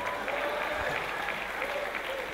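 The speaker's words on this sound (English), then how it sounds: "If you want clap, clap now free." Audience clapping during an a cappella comedy performance at a live show, dense continuous applause from a crowd with faint murmuring mixed in, steady in level for the whole stretch.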